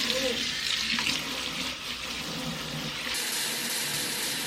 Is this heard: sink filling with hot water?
yes